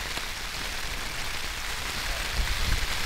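Steady rain patters densely on a nearby tent, a continuous close hiss with scattered heavier drops and no talking.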